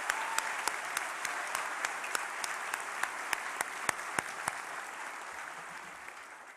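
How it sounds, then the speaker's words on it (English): An audience claps through a round of applause at a university graduation ceremony in Waterloo. The steady dense clapping has a few loud nearby claps punctuating it, then gradually fades toward the end. "can we have another round of applause for Dr. Stephanie Orr and the whole team?"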